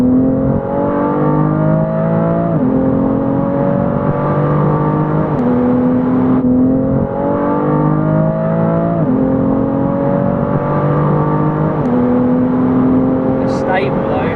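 A 2018 BMW M3 CS engine driven at high speed, loud steady drone with rising pitch sweeps and quick throttle blips on downshifts, the revs dropping and climbing again in a repeating pattern.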